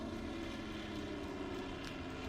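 Airplanes flying overhead in a video game produce a steady, droning engine hum that holds at an even level throughout, with no breaks.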